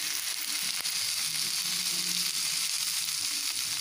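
A steady, close sizzle from two eggs being added to moringa flowers frying in a pan, hissing continuously without pause and with no talk.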